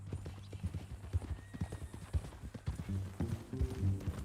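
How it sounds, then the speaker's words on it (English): A horse in Red Dead Redemption 2, the western video game, clip-clopping steadily on the ground with a whinny near the end, close and moderately loud, with faint background ambience. "That a new horse?"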